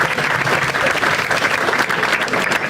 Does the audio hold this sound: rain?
no